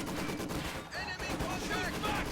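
Maxim machine gun suppressing infantry in Company of Heroes: rapid rattling bursts of gunfire mixed with other battle noise, close and dense, with a voice talking over part of it.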